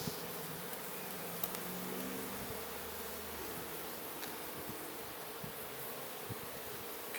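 Honey bees hum and buzz continuously around an open beehive, a dense steady drone of many insects nearby with occasional individual bees passing closer, and no talking.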